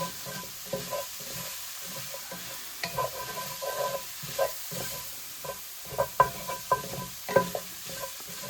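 Green onions are stirred into a saucy pork and cabbage stir fry in a hot pan, with a steady close sizzle broken by repeated scraping and tossing knocks as the mix is turned.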